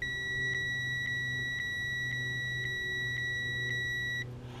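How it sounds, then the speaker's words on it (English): Built-in bite alarm of a Tackle Box smart fishing rod during bank fishing for carp and catfish, sounding eight evenly spaced electronic beeps, close and clear over a low motor hum, then stopping. "It's the smart rod from Tackle Box, and it's got this alarm system on it."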